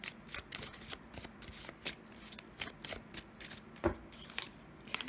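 Close, soft riffles and taps of a tarot deck being shuffled, with a few sharper card snaps as cards are pulled, quiet and free of talk.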